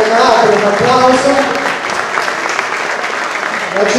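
Loud applause from a gala culture event audience, sustained clapping from many hands with a speaker's amplified voice talking over it.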